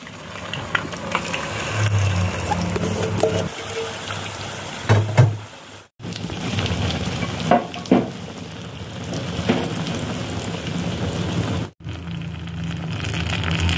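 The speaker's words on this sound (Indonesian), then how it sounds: "Saya goreng telurnya." Eggs frying in a pan of oil for spiced grilled eggs, a steady dense sizzle and crackle lasting throughout, with two brief breaks and a few louder pops and stirring knocks.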